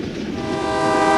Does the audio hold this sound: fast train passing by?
yes